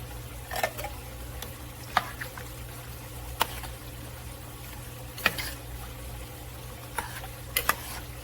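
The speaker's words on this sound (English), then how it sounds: "now we're going to add in our can of Rotel mild diced tomatoes and peppers" Mild Rotel diced tomatoes and peppers going into a pan at home, heard as low, steady frying and stirring with scattered sharp clinks and scrapes spaced through the stretch, fairly quiet and with no talking.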